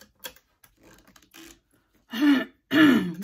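A woman clears her throat twice, close and fairly loud, after a few faint clicks and taps in a quiet sewing room.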